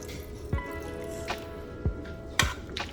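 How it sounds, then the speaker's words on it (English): Water being added to refried beans: a few wet, squishy plops and drips land at irregular intervals over a low steady kitchen background, close and moderately loud. "I'm going to add just a little touch more water"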